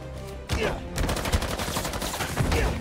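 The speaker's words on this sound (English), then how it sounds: "The fact that those bullets hit me, very upsetting." Gunfire in the video game Marvel's Spider-Man 2 starts abruptly after a brief lull and keeps going as loud, rapid, overlapping bursts of shots that fill the rest of the moment.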